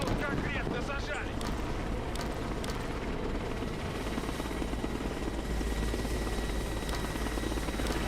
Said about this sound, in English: You guys want to let me get the helicopter